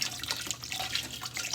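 Chicken stock pours steadily into a large pot of pork posole rojo, a continuous close splashing and trickling rush of liquid with no talking.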